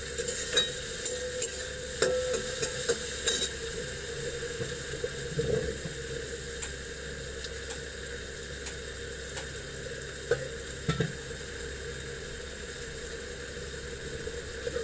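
Turmeric and red chili powder frying in oil for a tempering on low heat: a soft, steady sizzle with occasional stirring scrapes and clinks, under a constant background hum.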